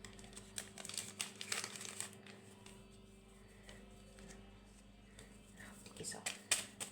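Plastic bag crinkling and rustling in a home kitchen while kahk cookie dough is prepared, soft crackling bursts at the start and end with a quieter stretch between, over a low steady hum.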